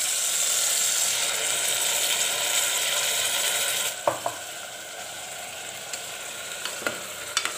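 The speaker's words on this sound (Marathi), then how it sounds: "चांगलं परतून घ्यायचं" Green chili, coriander, garlic and ginger paste being sautéed in a pan, a loud steady sizzle that drops down partway, followed by scattered clicks of a spoon stirring against the pan, close and without talk.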